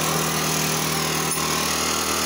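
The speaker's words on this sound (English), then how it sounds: "I'm using my air chisel." A pneumatic air chisel hammers rivets loose from an aluminum semi trailer, giving a loud, steady, rapid-fire rattling buzz that runs unbroken through the clip with no talking.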